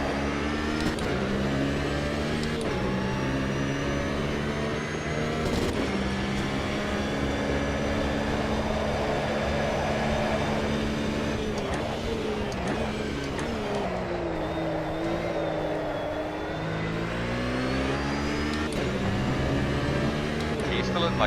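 A racing car engine revs and drones in Automobilista 2, the throttle rising and falling with gear shifts, while people talk over it throughout.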